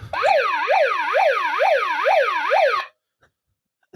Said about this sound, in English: It also has a siren on it. I'll play it for you.